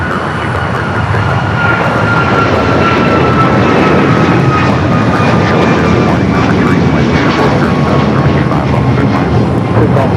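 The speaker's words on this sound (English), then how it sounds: "Next takeoff of flight to Cancun, Mexico, United Flight 1276, 737 MAX 9." United Airlines Boeing 737 MAX 9 jet taking off at Los Angeles International Airport, a loud, steady engine roar held throughout with a faint rising whine, close and continuous.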